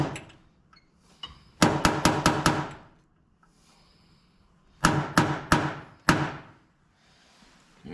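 Sharp metal-on-metal hammer strikes with a large hammer on a punch while fitting a summer top to an M38A1 jeep: a quick burst of five blows, a pause, then three more and a final single hit, loud and close.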